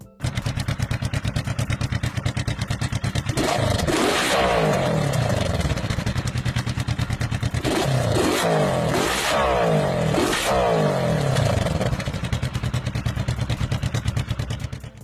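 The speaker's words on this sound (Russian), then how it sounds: "Во время выхлопа он быстро крутится, словно при стрельбе." A motorcycle exhaust fitted with a spinning Gatling-gun-shaped steel muffler gives a rapid, steady engine pulse. Three louder revving bursts stand out, each lasting about a second.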